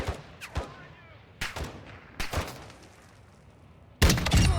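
Gunfire in Call of Duty DMZ: several sharp single shots ring out with reverberant tails and long gaps between them, then a loud continuous burst of rapid fire closes the clip.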